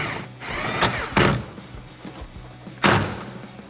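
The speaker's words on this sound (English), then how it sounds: "Once again, tightening that down with a 14mm." A 14mm wrench tightens a seat belt upper mount bolt inside a 1979-2019 Ford Mustang, giving several quick ratcheting bursts with sharp metallic clicks and thumps, close and loud, without speech.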